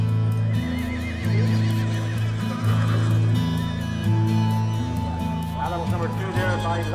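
Horses neigh and whinny repeatedly amid hoof clip-clops at the Ballinasloe horse fair in Ireland, with a crowd murmuring outdoors and a voice talking over it.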